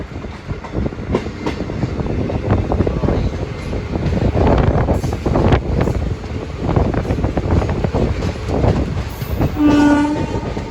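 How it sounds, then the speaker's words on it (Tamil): A passenger train gathers speed after leaving a station in southern India, with a steady rumble, rattling wagons and wind buffeting the microphone. A horn sounds near the end. "ட்ரெயின் இப்போ அது கிளம்பிட்டு நல்லா ஃபாஸ்ட்டாக மூவ் ஆரம்பிச்சிட்டு"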